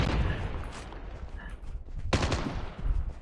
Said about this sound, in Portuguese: É uma rajada violenta que tem.